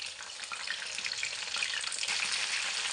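Baby corn frying in a pan for a chilli baby corn dish, a steady close crackling sizzle that runs continuously without any talk.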